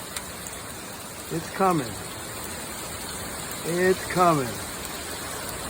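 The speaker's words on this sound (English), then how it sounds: "We got hail. We got little hail balls." Hail pelts down hard in a windy storm at Ocean View, a dense constant patter filling the background while a person speaks briefly twice over it.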